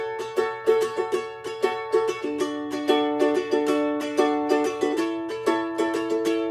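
Ukulele strummed in a steady repeating pattern through a chorus chord progression, bright, close and rhythmic with regular accented strokes and no voices.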